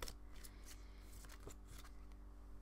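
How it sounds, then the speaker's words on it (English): Goddess oracle card pack being shuffled by hand, a run of papery riffles and soft slaps close by at low level over a steady background hum, with no talking. "shuffle this beautiful goddess oracle pack"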